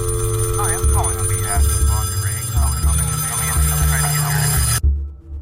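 A telephone rings repeatedly in a steady electronic pattern over a low droning music bed, then cuts off abruptly.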